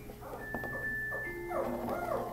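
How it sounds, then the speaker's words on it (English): A dog whimpers and yips in short, high, whining cries that rise and fall, close by and fairly soft, with no talk. "That's the dog."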